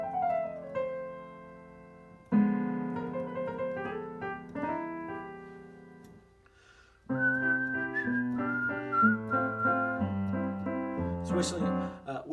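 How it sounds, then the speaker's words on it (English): Someone whistles a melody along with a piano playing a song. The whistle is clear and close over the chords, pausing briefly midway before resuming. "Whistling is optional."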